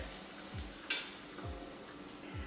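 Sliced onion sweating in a pan gives a soft, faint sizzle with occasional stirring scrapes and clicks, quiet and steady with no talk.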